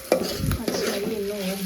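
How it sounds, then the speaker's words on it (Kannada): Papad (happala) frying in oil in a pan, a brief stir with a soft sizzle and a few light scrapes, close and quiet. "ಆ್ಯಕ್ಚುಲಿ ಅದು ಫ್ರೈ ಮಾಡ್ತಾ ಅದು ಚಿಕ್ಕದಾಗುತ್ತೆ, ಅದನ್ನು ಫುಲ್ ಹಾಕೊಂಬಿಡಿ."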